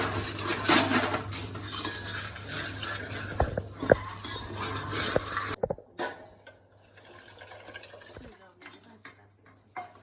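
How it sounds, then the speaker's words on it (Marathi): Dal rice is stirred and sautéed in a pan, with a close, busy clatter of a spoon scraping and knocking against metal over the first half, then quieter stirring; a voice is heard over it. "चांगलं एकजीव करून घ्यायचं परतून घ्यायचं"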